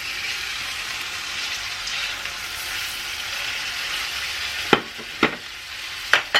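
A steak searing in a pan, a close, loud, steady hissing sizzle, followed by a few sharp knocks or taps near the end.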